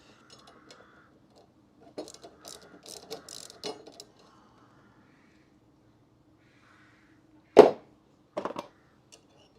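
A ratchet spanner tightens a fitting on a van's water tank during an install, giving a few scattered clicking bursts early on, then one sharp loud crack and a shorter burst near the end, with quiet gaps between.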